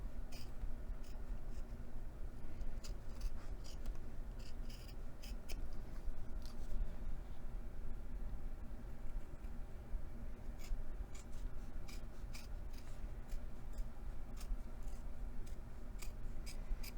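Scissors snip steadily through cork or leather for a rolled handle, a close run of short crisp cuts and faint rubbing that recurs across the whole stretch with no voice over it.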